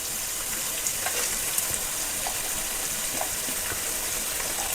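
Cabbage frying in a pan while making vegetable fried rice, a steady close sizzle with faint crackles and soft stirring pops throughout.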